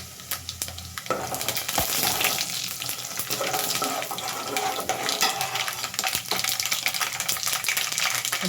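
Mustard and cumin seeds sizzle and crackle in hot oil for a puliyogare rice tempering, a loud, steady frying hiss with sharp popping bursts throughout, no talking over it.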